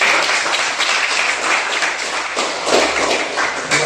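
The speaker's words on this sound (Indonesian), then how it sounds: "Tepuk tangan dulu Kang." Lively applause from students in a grade 12 classroom, close and loud clapping with a few thumps and taps mixed in.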